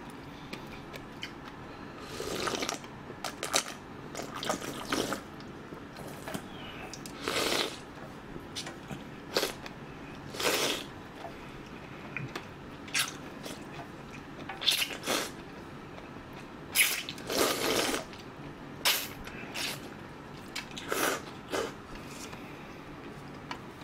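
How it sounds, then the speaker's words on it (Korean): Someone chews sea squirts (omandungi and mideodeok) from a spicy tteokbokki dish, close to the mic: repeated crunchy, wet crackling bursts that come in irregular clusters. "소리 나는 거는 그 오만둥이요 미더덕"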